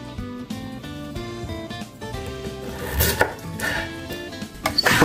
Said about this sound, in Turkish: gördüğünüz gibi pancarları mümkün olduğunca ince bir şekilde doğruyorum